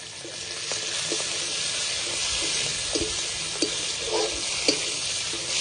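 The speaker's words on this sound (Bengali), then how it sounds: "চিংড়ি মাছটা দিয়ে হালকা করে ভেজে নেব" Prawns fry lightly in a pan with turmeric powder, a steady bright sizzle running throughout with occasional soft clicks and stirring knocks, close and fairly loud, no voices.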